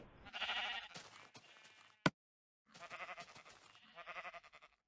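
Sheep in the Minecraft video game bleat in short wavering calls, one then a pause, a sharp click, then two more bleats close and clear with no talk.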